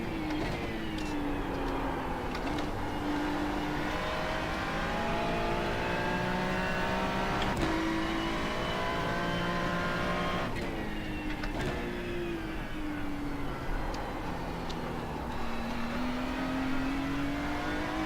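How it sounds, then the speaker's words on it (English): Ferrari 296 GT3 race car engine in the iRacing simulator, droning steadily and revving up and down through gear changes, with rising and falling tones and sharp shift cuts, heard alone throughout. "Ferrari is what we're driving tonight. The 296 GT3."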